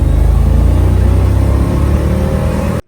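A Mercedes G55 AMG V8 idles with a steady, deep, loud rumble close by, then cuts off abruptly at the end.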